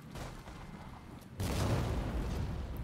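Distant gunfire in the video game Rise of the Ronin, heard as a dull, rumbling wash of shots that swells louder partway through, with no talking over it.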